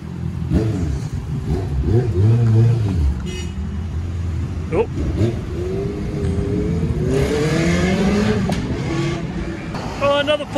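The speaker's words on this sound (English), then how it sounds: "Oh, there's another Porsche" A Porsche sports car revs on a Melbourne street, its engine note rising and falling at moderate distance among other passing traffic, with talking over much of it.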